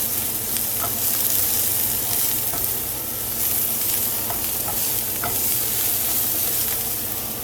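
Vegetables with steak seasoning being stirred in a frying pan, a loud continuous sizzle with repeated scraping and clinking of the utensil against the pan, no voices.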